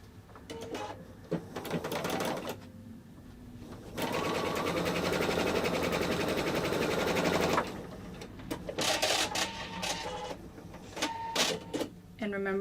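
A sewing machine stitches a quarter-inch seam through star-block quilt fabric placed right sides together, whirring steadily for a few seconds in a continuous run, with clicks, fabric handling and spoken instruction before and after.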